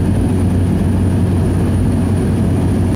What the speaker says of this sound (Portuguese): O Caravan é um avião bimotor turbo-hélice fabricado pela Cessna Aircraft.